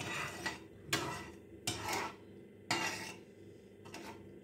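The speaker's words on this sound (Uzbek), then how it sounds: "uni yaxshilab qo'zg'aymiz" Spoon scraping and clinking against a pot while stirring sugar into milk porridge, about five bursts at an irregular rhythm, close and fairly quiet.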